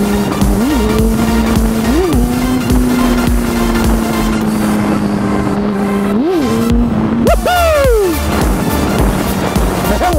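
A motorbike engine holding a steady drone through a wheelie, with short throttle blips rising and falling, then a sharp climbing rev near the end, loud and close throughout with no talk.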